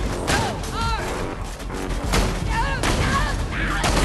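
Dense gunfire in the video game Borderlands 2, loud rapid shots and impacts packed together with crashing thuds and game effects, under a player's talk.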